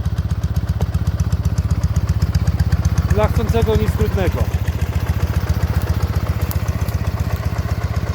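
A Dnieper MT-12 sidecar motorcycle engine idles steadily with a low, even thumping pulse throughout while someone talks briefly over it.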